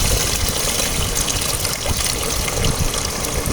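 Water gushing steadily and loudly out of a broken Isuzu 4HF1 diesel engine, a continuous dense splashing pour with no talk over it.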